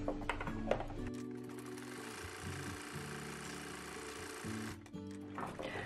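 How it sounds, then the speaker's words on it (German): A sewing machine runs steadily, stitching a hem along the edge of a fabric face mask, its motor hum and needle rattle continuous and close, with a brief dip near the end before resuming. "Ich brauche jetzt nur noch hier an meiner Kante mit dem Nähfuß entlang gehen und kann mir so meinen Saum umnähen."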